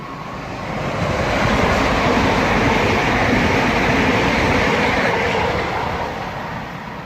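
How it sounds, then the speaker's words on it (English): A Southeastern high-speed passenger service on the line at Newington sweeps past close by, a loud rising-and-falling roar with rumbling wheels and steady rail noise lasting several seconds, no voices over it. "now approaching, getting in close by, is 1 Charlie 42, the 1617 Southeastern high-speed service from St Pancras International"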